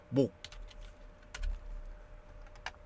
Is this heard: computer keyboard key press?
yes